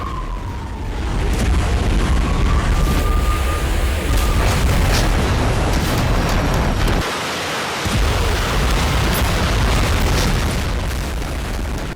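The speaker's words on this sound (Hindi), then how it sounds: "टॉर्नेडो मल्टीपल रॉकेट लॉन्चर से हमला किया गया।" A Tornado multiple rocket launcher fires its rockets in a dense, roaring barrage, loud rushing blasts overlapping continuously with a brief dip partway through, then resuming.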